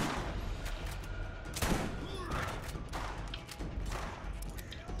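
Gunfire in the video game Borderlands, a rapid burst of shots and heavy thumps close and loud, with a player talking over it.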